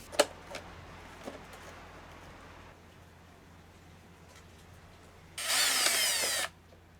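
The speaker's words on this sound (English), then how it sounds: "After test fitting the wings, cowl screw holes are drilled." Power drill boring cowl screw holes in a large 35-40cc Cherokee model airplane, one loud burst of about a second near the end after light taps and clicks, with a quiet background otherwise.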